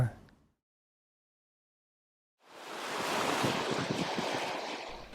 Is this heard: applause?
no